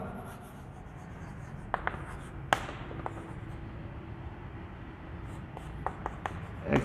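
Pen scratches on paper while the centroid formula is written out, with faint irregular strokes and a few sharper taps against a quiet room hum.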